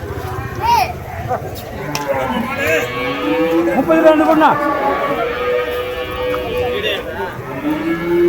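A native-breed cow lows at an open cattle market in Vaniyambadi, several drawn-out moos rising over steady crowd chatter and close, continuous conversation.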